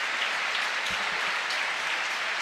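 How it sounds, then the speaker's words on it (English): The Camp Nou crowd applauds Rafa Marquez as he is substituted, a dense, continuous wash of clapping from a large stadium that stays at an even, sustained level throughout. "Rafa Marquez is sure to get a very generous ovation here from this Camp Nou"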